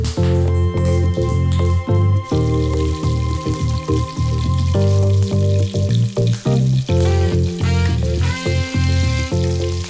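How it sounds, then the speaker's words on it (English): Cod sizzles and crackles steadily in hot oil, with music playing loudly over the frying. "I'm gonna go ahead and drop in my fish."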